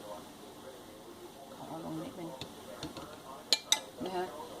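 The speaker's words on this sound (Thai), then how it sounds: "เดี๋ยวเอาจะใช้ช้อนกด" A spoon presses and stirs lumpy flour batter for pandan cup cakes in a bowl, making soft, faint scraping and squishing, with two sharp clinks of spoon against the bowl near the end and quiet talking underneath.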